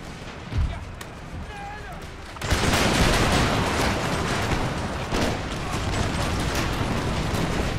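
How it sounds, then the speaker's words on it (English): Close musket volley in a video game battle, a sudden loud crash of massed gunfire erupting into a sustained rattling roar of shots and battle noise. "that close volley more or less destroyed that regiment"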